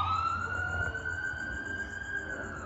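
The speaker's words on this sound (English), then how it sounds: "Unfortunately, there's a siren going off." A wailing siren rises and holds steady in the distance, loud and continuous over low rumbling background noise.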